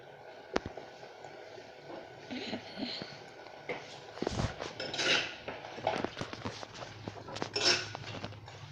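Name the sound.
mixing prawns in a pan while cooking prawn fry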